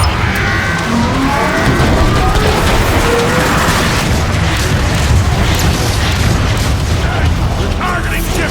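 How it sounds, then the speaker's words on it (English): Artillery strike explosions in the video game Transformers: Fall of Cybertron: a continuous heavy roar of booms and rumbling blasts, loud and sustained throughout with no pause. "Optimus, how about calling in an artillery strike?"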